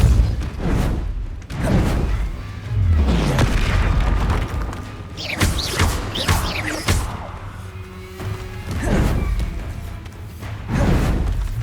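Confringo and Depulso spell blasts in the wizarding game Hogwarts Legacy land as a series of loud booms and whooshing bursts, spaced irregularly over a steady rumbling backdrop of battle effects.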